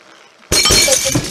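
Glass shatters suddenly in the Happy Wheels video game, a loud crash of breaking shards that cuts in after a quiet start and keeps clinking and ringing close and bright to the end.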